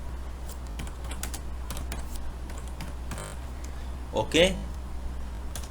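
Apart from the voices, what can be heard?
typing on a computer keyboard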